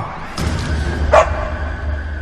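A dog in a narrated audio story gives a short bark, then a sharp, anguished yelp, against a low steady background hum with no talk.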